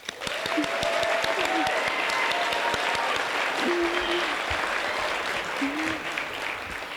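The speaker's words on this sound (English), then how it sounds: "Let's give a round of applause once again to all of our award winners." Applause for award winners at the Mid-Maine Chamber 60th Annual Awards Ceremony: steady clapping from a banquet audience, with a few whoops and cheers over it.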